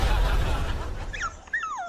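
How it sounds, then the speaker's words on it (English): A distressed dog named Alfie: a low, noisy rumble fades into a few thin, rising and falling whimpers and yips that come close together near the end. "what's made this dog so distressed?"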